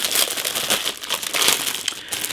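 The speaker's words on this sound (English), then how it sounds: "So the plastic bag is resealable, so let's unseal it." A resealable plastic bag holding a 1/48 scale model aircraft kit's parts is opened, giving a loud, continuous crinkle close by.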